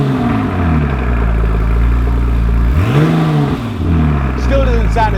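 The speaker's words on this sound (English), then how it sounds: "The turbo spooling." A Porsche turbo engine with an aftermarket exhaust idles with a deep, loud rumble, then revs sharply in one quick rise and fall as the turbo spools, before settling back to a steady idle close by.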